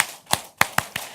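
A crowd at a church anniversary seminar performs a unison rhythmic listening clap, four sharp, close claps with a short pause after the first, with no voices over it.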